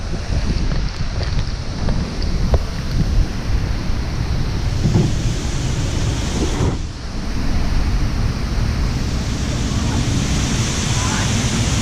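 Rain from Tropical Storm Laura pours over a coastal fishing spot, a dense roaring wash mixed with gusting wind buffeting the microphone, loud and unbroken throughout.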